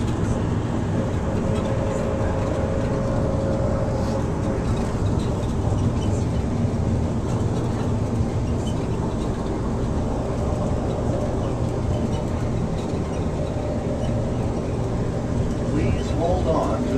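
An airport shuttle train rides toward the gates with a steady low rumble and hum of rolling wheels and cabin noise. A faint tone is heard partway through, and no clear speech stands out.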